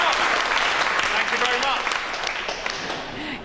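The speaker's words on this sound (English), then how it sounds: "Give yourself a round of applause." Group of exercise-class participants clapping in a brisk, close round of applause after a workout, with talking running over the clapping throughout.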